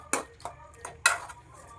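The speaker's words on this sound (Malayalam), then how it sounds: "മസാലയൊക്കെ പിടിക്കാനായിട്ട് നന്നായിട്ടൊന്ന് ഇളക്കി യോജിപ്പിക്കുക" Spoon stirring chicken curry with masala in a pan, four separate scraping clinks at an uneven pace, close and fairly quiet.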